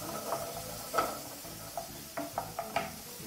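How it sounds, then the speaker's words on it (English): Beef mince frying in a pan with salt, a quiet soft sizzle broken by a handful of light clinks and scrapes from a utensil moving the meat, close but faint. "we're just gonna fry this till it's done"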